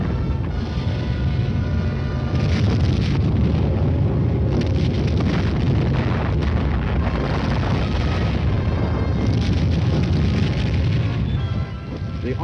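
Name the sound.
artillery barrage of non-atomic fire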